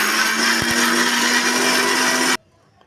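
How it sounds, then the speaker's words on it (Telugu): A mixer grinder whirs loudly and steadily while blending watermelon juice with sugar, then cuts off abruptly after about two and a half seconds, leaving near silence. "ఇప్పుడు జార్లోకి వేసి ఇది కూడా మిక్సీ పట్టుకుందాము"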